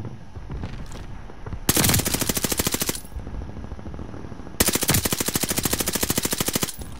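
Gunfire in the video game Call of Duty Vanguard on the Champion Hill map: two long, loud bursts of rapid automatic fire, each lasting over a second, separated by quieter game ambience.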